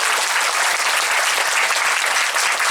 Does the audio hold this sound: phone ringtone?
no